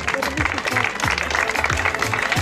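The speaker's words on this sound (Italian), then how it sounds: "col vostro calorosissimo applauso" Audience applause at a Miss Trieste 2018 beauty pageant pre-final, a steady dense wash of clapping filling the whole stretch, with a voice talking underneath throughout.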